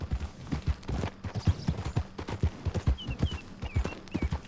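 Horse hooves clip-clop at a steady trot in the video game Red Dead Redemption II, with a rhythmic, fairly close run of hoofbeats and faint chirps in the background.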